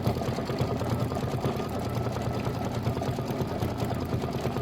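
An embroidery machine stitches out a decorative pillow design, a steady, fast mechanical chatter of needle strokes running evenly and close throughout, with no voices.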